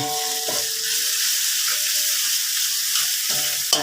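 Horse mussels stir-fried with chili and holy basil, a close, steady sizzle of hot oil with a few clattering stirs of the utensil at the start and end, no talking.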